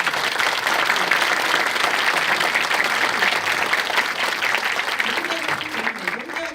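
A crowd at a live talk event claps loudly and continuously, a thick even roar of applause that fades slightly toward the end.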